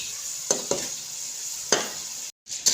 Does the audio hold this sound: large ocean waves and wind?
no